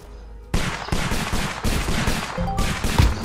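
Rapid automatic gunfire in a Roblox game, loud close bursts of fast repeated shots after a brief quiet start, continuing in sustained volleys with tiny gaps between them.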